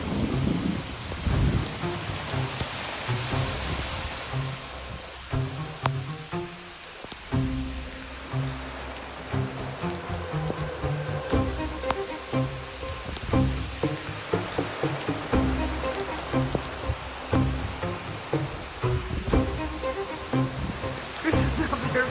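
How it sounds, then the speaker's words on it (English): A heavy autumn thunderstorm on a flower farm: dense, continuous downpour pounding surfaces, with deep rolling thunder rumbling underneath throughout. "and then this huge storm moved through"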